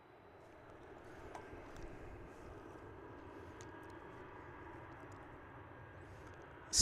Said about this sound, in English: Spirit Airlines takeoff.